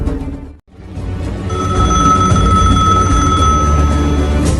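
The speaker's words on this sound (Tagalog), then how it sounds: "Nagunit ti telepono." A telephone rings in a radio drama, a bright sustained electronic ring that begins after a brief silence and continues loudly to the end.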